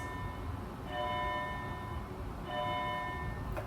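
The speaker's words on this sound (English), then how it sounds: "bell for confirmation" A small bell chimes twice in a quiet room, each strike ringing with bright sustained tones that fade slowly, over a low steady background hum.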